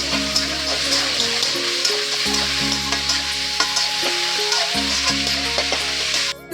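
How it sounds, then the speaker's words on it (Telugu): Onions and chopped green chillies frying in oil in a pan, a loud, steady sizzle heard close up, with occasional stirring scrapes. "ఆనియన్స్ ఫస్ట్ వేసాను అనమాట. ఆయిల్ వేసిన తర్వాత అలాగే కొన్ని పచ్చిమిరపకాయలు అనేది కట్ చేసి ఇందులో వేసుకున్నాను."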